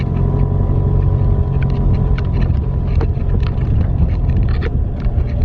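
Jeep with low-range gearbox and rear diff lock driving off-road through woods, a steady loud engine rumble with constant low drone and some wind buffeting, no talking.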